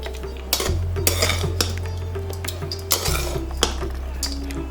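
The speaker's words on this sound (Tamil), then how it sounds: "அந்த புளிக்காய்ச்சலை இந்த சாத்தில் போட்டு நல்லா ஃபைனாக மிக்ஸ் பண்ணுங்க" Tamarind paste being worked into cooked rice in a dish for temple-style puliyodharai, with repeated close scraping and clinking of a spoon against the vessel over a low steady hum.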